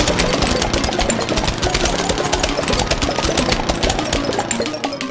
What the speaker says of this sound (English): Here comes the lawn mower.